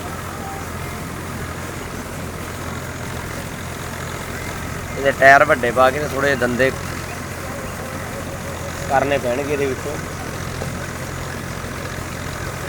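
A tractor fitted with 14-inch tires idles steadily nearby in a farm field, a constant low engine drone running under a voice that speaks in two short bursts.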